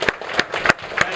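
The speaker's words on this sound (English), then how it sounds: "So let's give Clay a round of applause." A workshop audience claps for a participant, only a few separate claps spaced irregularly, close and crisp, with no voices over them.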